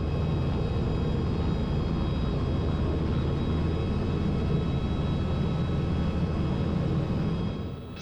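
A small airplane taxiing toward the runway gives a steady, loud, droning engine rumble throughout, with a slight easing at the very end.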